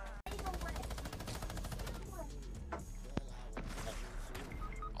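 Rapid hunting rifle and shotgun blasts from a Fortnite match, several sharp reports in quick succession over steady game noise and music, with a couple of louder isolated cracks near the end.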